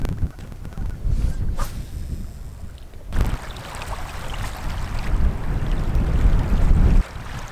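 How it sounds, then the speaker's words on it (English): Strong, cold wind of about ten miles an hour gusts and rumbles loudly across an outdoor microphone on a freezing day, building steadily toward the end with a brief lull near the close. "It's so windy."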